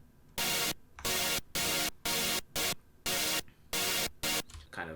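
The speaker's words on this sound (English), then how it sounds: "These saws are like really trashy and super noisy." Trashy, very noisy saw synth stabs from an electronic music project, loud and harsh, hitting in a choppy rhythm of about eight bursts separated by short gaps, with no voices.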